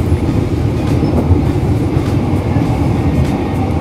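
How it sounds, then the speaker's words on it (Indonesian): A Jabodetabek commuter line train rolls by close and loud, with a continuous heavy rumble of wheels on track and a faint rhythmic clatter from the carriages. "ini kereta juga teman-teman, kepala kereta. Gerbongnya teman-teman."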